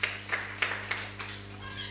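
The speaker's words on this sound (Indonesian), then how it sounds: "Beri tepuk tangan buat Tuhan" A church congregation at a live-streamed worship service claps in slow, evenly spaced beats, about one every third of a second, fairly faint over a steady electrical hum from the sound system.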